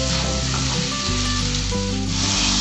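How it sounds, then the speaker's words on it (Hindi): Chopped onion and capsicum sizzle steadily in a hot pan for pav bhaji, a dense continuous crackle with faint scraping of stirring, close and loud throughout with no voices. "1-2 मिनट तक हमने प्याज और शिमला मिर्च को अच्छे से कुक कर लिया है"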